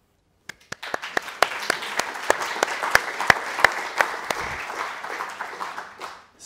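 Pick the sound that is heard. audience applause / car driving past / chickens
audience applause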